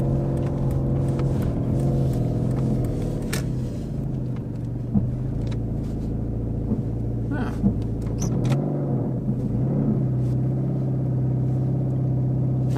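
A LuAZ engine idles at a raised, constant pitch, a continuous low hum with a faint rumble and no revving.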